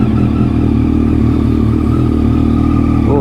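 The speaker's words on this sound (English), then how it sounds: "The start up is going to be very nice, as this bike is incredibly loud." A gen 2 Yamaha MT-09 motorcycle engine running loud and close, a steady deep idle rumble with a slight rise at the end, no talking.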